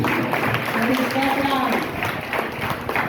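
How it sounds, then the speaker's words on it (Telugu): A church congregation at a Sunday service claps for God, a steady dense roar of hands heard close and loud throughout, with a voice speaking over it. "కొట్టి చప్పట్లు దేవుడికి."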